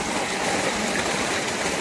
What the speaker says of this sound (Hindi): ये देखो बड़ा वाला पाइप लगा हुआ है, इतना बड़ा। ये देखो पानी गिर रहा है